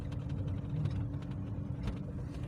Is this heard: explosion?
no